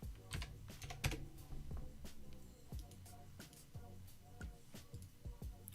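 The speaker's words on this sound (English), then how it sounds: "because I was typing in there" Computer keyboard typed in quick irregular bursts of clicks and clacks, fairly close, some strokes sharper and louder, during a live stock market stream.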